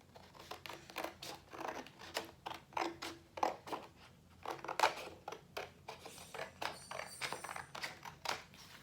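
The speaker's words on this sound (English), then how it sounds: "we're gonna cut right along this line where the two sides meet" Scissors cut along the seam of a paper tube in a rapid series of crisp snips and crunches, close and fairly loud, repeating rhythmically with brief pauses.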